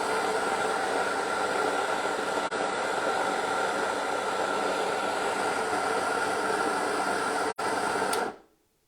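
An electric grain mill grinding buckwheat roars with a loud, constant high-pitched whir for about eight seconds and then cuts off abruptly, with no talking.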